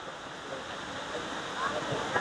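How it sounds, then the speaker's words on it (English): A distant broad rushing roar of Plitvice Lakes waterfall in Croatia, 87 meters tall and the country's highest, heard as a steady wash of falling water with faint outdoor murmur. "it's the highest waterfall in whole of Croatia"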